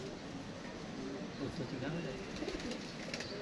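Pigeons cooing softly during training in the dark, faint low calls under a steady background hum and a voice talking nearby.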